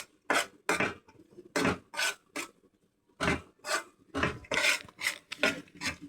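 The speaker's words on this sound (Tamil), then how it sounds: "கிண்டி விட்டுக்கலாம்." A mutton curry with sambar chilli powder is stirred in a pot, heard as close, repeated rasping scrapes of a utensil against the pot in short bursts separated by brief pauses.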